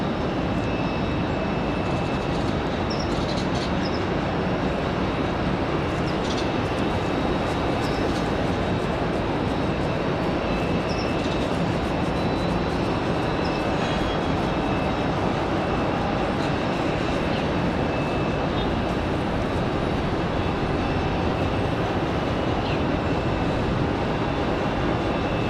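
A CRJ jet airliner taxis at Raleigh-Durham airport, a steady, continuous broadband roar with a thin high whine running through it, moderately distant and unbroken throughout.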